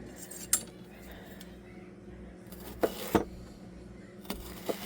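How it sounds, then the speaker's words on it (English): A knife slicing a small piece of fresh ginger into pieces for tea gives a few sparse, quiet taps and clicks against a board, spaced irregularly with hushed room tone between them and no talking. "I'm just going to cut up a little bit of this ginger and put it right into my tea."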